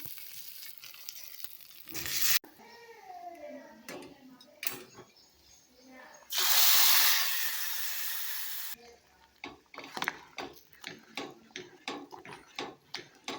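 Mustard seeds, urad dal, curry leaves and vadagam frying in hot oil for tempering: bursts of loud sizzling and crackling with a long hiss in the middle, followed by rapid popping and spluttering.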